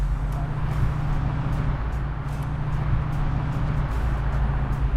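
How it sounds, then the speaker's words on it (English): A 1969 Chevrolet Camaro with an automatic transmission cruises steadily, heard from inside as a constant low engine drone and road rumble with no talk. "It's a smooth driving car though, feels good."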